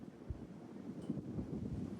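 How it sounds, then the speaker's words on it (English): Gusting wind on an outdoor disc golf course during a tournament round: a low, steady rumble of wind buffeting the microphone with a few soft thumps, faint and without talk. "That's how windy it is."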